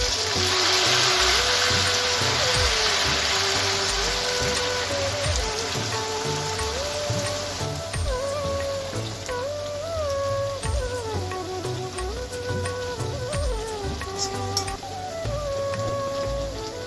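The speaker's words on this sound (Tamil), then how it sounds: "எண்ணெய் நல்லா சூடானதுக்கு அப்புறமா நூடுல்ஸை போட்டு பொரிச்சு எடுத்துடலாம்." Noodles deep-frying in hot oil for a veg American chop suey give off a steady, dense crackling sizzle that runs unbroken throughout, with a soft melodic tune underneath.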